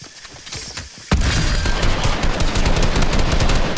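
Gunfire in Fortnite: after a quieter opening with a few scattered cracks, a loud, sustained burst of rapid shots with dense repeated reports runs to the end.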